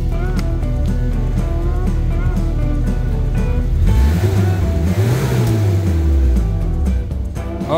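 A project car on its first test drive, engine revving loudly and steadily throughout, with a rising and falling rev sweep near the middle.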